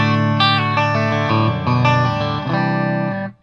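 An electric guitar on its bridge pickup rings out bright, chimey chords through effects with chorus and reverb, several strummed changes sustaining loudly before fading at the end.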